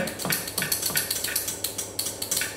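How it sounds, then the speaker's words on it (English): A whisk works through pavlova meringue in a bowl, making a steady series of rhythmic scraping, clinking strokes against the bowl, close and fairly quiet. "I'm going to fold it in with my um, whisk"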